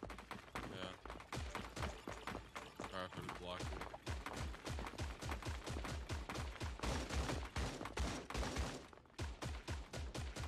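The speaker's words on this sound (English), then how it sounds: "Just saw bullets go by." Rapid bursts of gunfire fill a Fortnite match, with dense clustered shots continuing almost without pause and a brief gap near the end, while players talk over the shooting.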